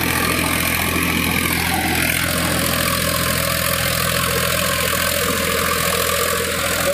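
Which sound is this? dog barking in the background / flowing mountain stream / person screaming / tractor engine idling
tractor engine idling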